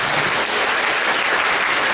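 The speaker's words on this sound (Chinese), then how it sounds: "掌声欢迎" Wedding guests give a steady round of welcoming applause for the bride's father, the officiating parent, about to speak. Dense, even clapping fills the room throughout, close and loud, with no talk over it.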